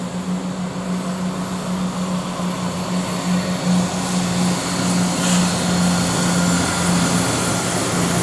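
A Class 170 diesel passenger train on a CrossCountry service passes at Nuneaton with a loud, continuous engine drone and rumble that holds steady throughout, close by with no voices.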